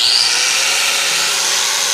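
An angle grinder fitted with a belt sander attachment, a 5-inch variable-speed unit, sands aluminized steel exhaust tubing, giving a steady high-pitched abrasive whine that holds close and loud throughout, alone.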